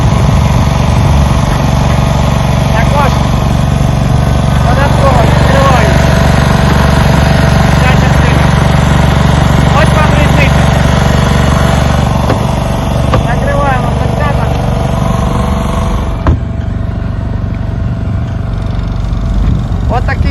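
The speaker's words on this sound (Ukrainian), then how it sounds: "тут зараз вже робить генератор" A generator runs in an open soundproof enclosure, making a loud, continuous engine drone with a steady low rumble throughout, while someone talks over it.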